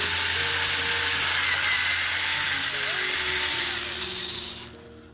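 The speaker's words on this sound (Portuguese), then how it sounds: "Com o auxílio de uma broca, vocês podem usar um ferro quente para fazer um furo." An electric drill whines at high, steady speed while boring a hole in a plastic pot for a self-watering planter, then winds down and cuts out at the end, with a voice briefly underneath.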